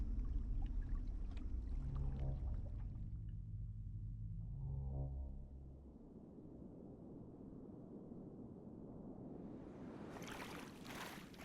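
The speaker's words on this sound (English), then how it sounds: "Just wait for the water sound to go away." Water in the video game Outer Wilds: Echoes of the Eye, at Starlit Cove, sloshes and rushes with low, pouring turbulence for several seconds, then fades into a quieter hiss as higher noise rises near the end.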